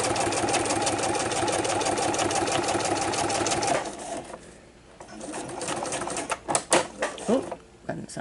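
A sewing machine stitches a fabric glasses case with a loud, rapid rhythmic whir for nearly four seconds, then stops, leaving quieter handling noises while a person talks.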